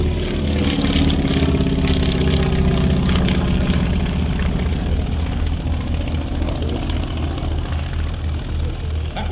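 A Beech Staggerwing biplane flying at the East Kirkby airshow, its engine drone steady and loud, broad and continuous throughout without any voices.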